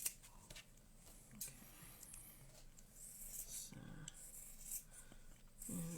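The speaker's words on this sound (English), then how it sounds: "I'm just going to use my scissors just for quickness and ease." Scissors snip through quilting fabric along a drawn line, giving soft, close crisp cuts and rustling handling noises in a quiet room, with no one talking.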